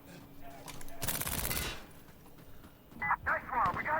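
A .50 cal turret machine gun fires a rapid, dense burst for about a second in the game Insurgency: Sandstorm, followed by quieter game noise and distant electronic chirps.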